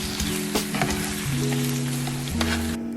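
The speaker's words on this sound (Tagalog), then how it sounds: "Gently toss the shrimp with onions and garlic until pink." Shrimp frying with onions and garlic in a pan for garlic butter shrimp: a steady, close sizzle with faint stirring and tossing, a low steady hum running underneath, and no talk.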